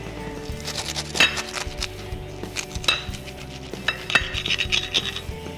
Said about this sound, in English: Got my knife. We're gonna cut this in half.